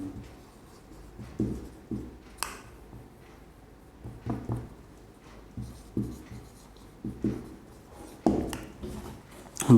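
Chalk or marker scratching on a board during a classroom grammar lesson, heard as short strokes in irregular bursts, fairly close, with quiet rustling between them and no talk.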